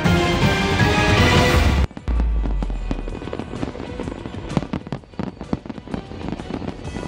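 Repeated New Year fireworks bursts over Ras Al Khaimah, UAE, crackle and boom, dense and loud at first, then a steady barrage of sharp pops and crackles continuing throughout.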